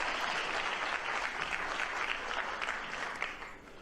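Sustained applause from a large audience at a White House event, steady and dense throughout, thinning slightly near the end with no talk over it.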